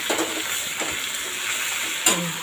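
Bitter gourd is stirred in a hot pan, producing a steady sizzle with intermittent scraping and clinks of a utensil against the metal, close up and with no talking.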